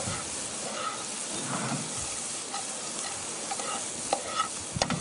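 Monkfish pan-frying, with a continuous close sizzle and hiss from hot fat, punctuated by occasional scrapes and taps of a utensil against the pan, growing a little louder near the end, no voices.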